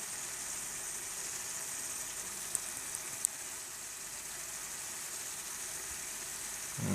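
A thick vegetarian madras curry sauce base burns and roasts in a non-stick Teflon pan, giving a constant close sizzling hiss with a couple of brief sharp pops.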